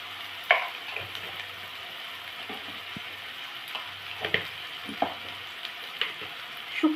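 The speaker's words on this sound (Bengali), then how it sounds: "পেঁয়াজ আদা রসুন টমেটোর সাথে ভালোভাবে ভেজে নেওয়া হচ্ছে" Onion, ginger, garlic and tomato fry with ground turmeric, cumin and chili in a pan for a Bengali fish-head curry, a steady close sizzle broken by scattered clinks and scrapes of a stirring spoon.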